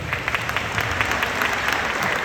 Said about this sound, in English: how about a round of applause from all of our athletes and everything they do to support each other